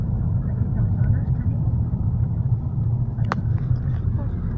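A rally organisation car drives past on a road stage of the Rallye d'Envermeu, its engine a steady low rumble throughout, with a brief sharp click partway through.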